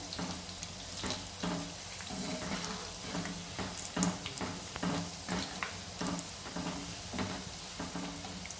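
Gram-flour bhaji fritters bubble and sizzle steadily in hot oil after being flipped, a continuous low crackle with faint soft scrapes, heard alone and quietly from nearby.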